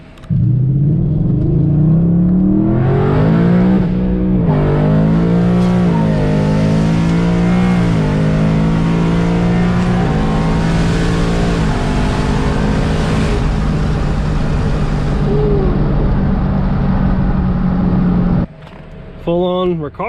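Coyote V8-swapped 1993 Ford Mustang Cobra with a 10R80 paddle-shift automatic, heard from inside on a drive: a loud engine climbing through rising revs, each gear change dropping the pitch before it pulls up again, then a sudden cut near the end.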